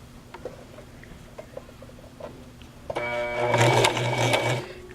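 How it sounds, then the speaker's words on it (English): A sewing machine runs a line of stitching down a skirt placket, a steady close mechanical whir for the last two seconds after a few light taps. "Okay, so I'm going to sew down that line."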